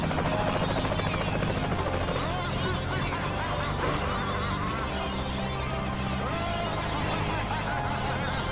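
A helicopter's rotor thrums continuously in the Saints Row: The Third Remastered video game, a loud steady drone beneath layered game sounds and some voices.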